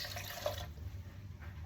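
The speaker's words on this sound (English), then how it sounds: "So we're going to add the water again." Water splashes briefly and faintly into a pot while cornmeal pudding is being made in a kitchen, lasting about half a second before quiet resumes.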